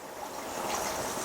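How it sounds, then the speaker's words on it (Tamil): A ladleful of kara appam batter is poured into a hot appam pan, giving a short, steady, close hissing trickle. "நான் இந்த கரண்டில ஒரு கரண்டி மாவு எடுத்து ஊத்துறேன்."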